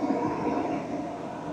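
A steady low rumble and rattle of the Caledonian Sleeper train rolling from London to Fort William, fairly loud and continuous with no voices.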